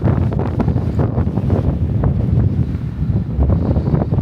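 Strong wind roars and buffets the microphone without pause, a loud, rough rushing that surges and dips over the whole stretch.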